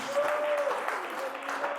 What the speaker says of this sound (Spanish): Aquí todos los aplausos, aquí todas las alabanzas son para el Señor, Dios Todopoderoso.